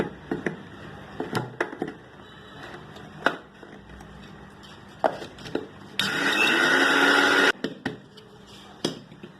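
A mixer grinder whirs loudly for about a second and a half, grinding mango ginger paste with tamarind, jaggery and salt, framed by scattered light knocks and clatter in a quiet kitchen.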